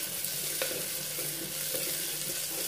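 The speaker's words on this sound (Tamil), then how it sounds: "இப்போ வெங்காயம் பாருங்கள் நல்லா வதங்கிடுச்சுங்க." Onions sautéing in a pan hiss steadily, with a few light stirring scrapes breaking through the even frying sound.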